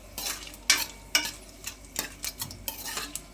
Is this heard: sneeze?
no